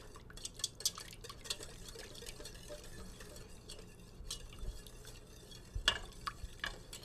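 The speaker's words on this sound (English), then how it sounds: "A good whisk is always helpful to have" Butter being whisked into a creamy Alfredo pasta sauce, quick soft liquid swishes and light clicks of the whisk against the pan, close and quiet with no talking.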